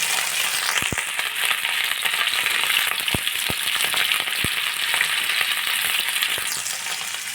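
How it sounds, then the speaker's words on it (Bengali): Eggs frying in a hot pan give a loud, continuous close-up sizzle and crackle, with a few sharp pops and spatula clicks scattered through it, and no voices. "দেখো, আমি এবার ডিমগুলো ভেজে নেব।"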